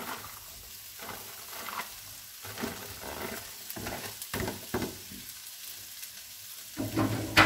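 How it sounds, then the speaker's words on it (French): Onion and vegetables are stir-fried in a wok with tongs, giving a steady sizzle broken by irregular scraping and clattering tosses, close and moderately loud, with no talking. "ma pince est bien pratique pour pouvoir remuer tous mes légumes"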